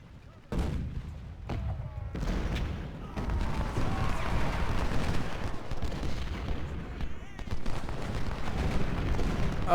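Cannon fire in the Civil War strategy game Ultimate General: Civil War, with a few sharp reports at the start building into dense, continuous booming volleys and rumbling battle noise, a voice talking over it.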